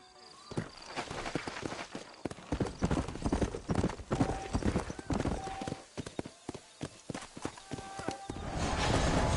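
Horse hooves clip-clop at a steady walking rhythm in a Red Dead Redemption game scene, close and fairly loud, with brief snorts and faint background voices.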